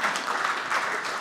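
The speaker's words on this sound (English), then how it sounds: "So this is where I expect you to all applaud and stand up and cheer." A conference audience applauds steadily for just over a second, a dense even patter of many hands clapping at moderate distance with no talking over it.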